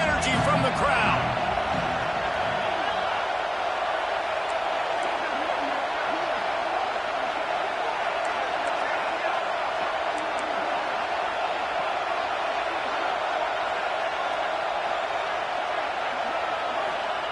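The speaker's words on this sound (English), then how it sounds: "this defense feeling energy from the crowd" Stadium crowd in a college football video game roars in a steady, broad wash of cheering noise during a third-and-goal defensive stand, continuous and loud throughout with no clear break.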